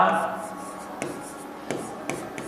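Chalk or marker taps and scrapes on a classroom board as a teacher writes, a few short sharp strokes near at hand over a faint room hum, with no talking.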